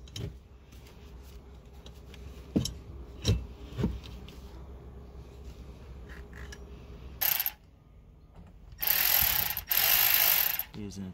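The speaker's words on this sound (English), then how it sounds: "Using a 10 millimeter socket." A ratchet turning a 10 millimeter socket on a 2013 BMW ActiveHybrid 3 335i F30 gives a few sharp, spaced clicks up close, followed later by bursts of louder, harsher mechanical noise.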